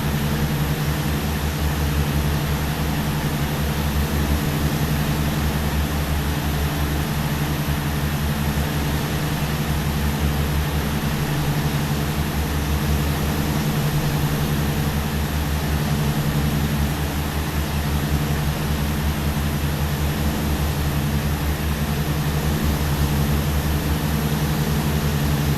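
A Tecnam P2006T propeller plane's engines drone steadily and loudly throughout, in X-Plane 12 on a Hawaiian island-hopping flight, a dense, unbroken low hum with no talking.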